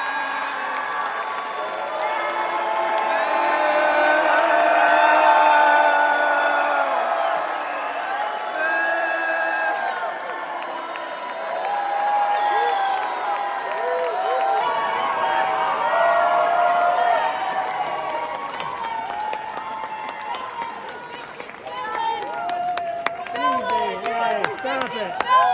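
A large crowd at the Kennedy Center boos and shouts at Donald Trump, a loud, sustained roar of jeering voices with scattered claps and individual cries rising above it.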